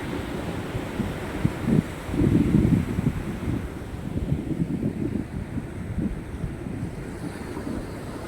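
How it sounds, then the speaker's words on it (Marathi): Sea waves wash onto the shore under strong wind that roars across the microphone, with a heavier surge of surf near the start and a steady churning wash afterward. "समुद्राच्या लटा"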